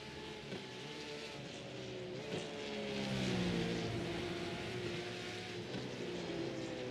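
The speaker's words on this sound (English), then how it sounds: "this is our closest 2 cars on track at the moment, James Parker and Andre Geiger" Race cars from the iRacing sim lapping Canadian Tire Motorsport Park, a steady loud engine drone with shifting tones as two closely matched cars run nose to tail, without any talk.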